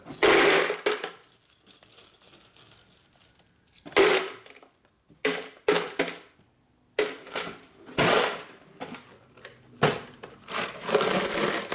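Small quarter-inch metal bolts clatter and rattle in bursts as a hand rummages through a parts bin in a home garage during work on a 1996 Harley-Davidson FXST Softail with an 80ci Evo engine, with short quiet gaps between the handfuls.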